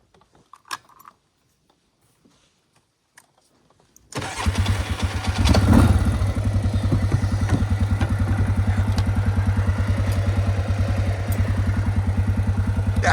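After a few faint clicks in near silence, a vehicle engine starts abruptly and then keeps up a loud, rapid, even chugging close by.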